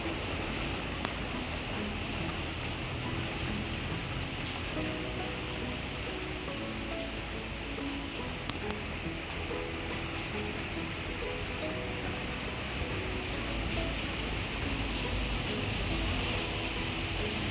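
Rain falls steadily on greenery in Lahore as a soft, continuous, even hiss, faint and distant, with no voices over it.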